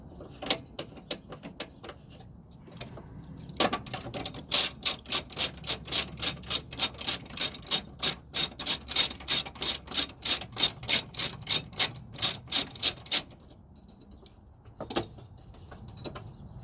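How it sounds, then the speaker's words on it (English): A ratchet turning a 13mm socket loosens the battery bracket on a 1998 Toyota 4Runner, giving a few scattered clicks and then a long, fast, even run of sharp close clicking before a couple of final ticks. "for this bracket, I'm gonna be using a 13mm socket. I'm just gonna loosen this up"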